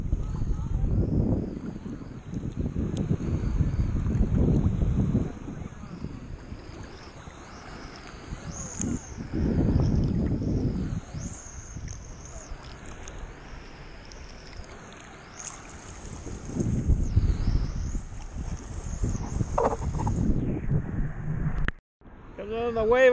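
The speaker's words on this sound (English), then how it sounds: "You can see the wind working on them tents over there." Gusty wind blows outdoors near a campsite with tents at a gold-prospecting site, rumbling in low surges that rise and fall, loud against the microphone, with a brief dropout near the end.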